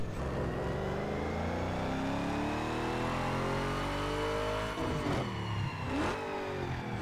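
A Hummer H2 6-litre V8 engine on a dyno in Need for Speed Underground 2 revs up hard and holds, its pitch climbing steadily before dropping off and surging again, loud and close.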